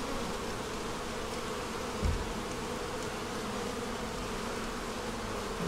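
Honeybees clustered together in an open hive frame give a steady, continuous buzzing hum close by, with a brief low thump near the middle and no voices.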